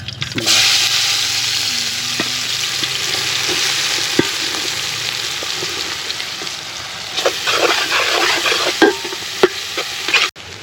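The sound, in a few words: chopped onions frying in hot oil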